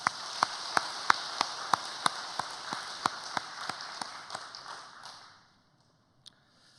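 Church congregation applauding after an ensemble's worship music, steady rhythmic clapping with sharp regular beats over a broad wash of applause that fades out near the end, followed by one lone clap.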